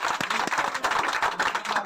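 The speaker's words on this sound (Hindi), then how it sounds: "ताली बजा भैया।" Hand clapping from a small group at an outdoor protest gathering, dense and uneven, with faint voices mixed in underneath.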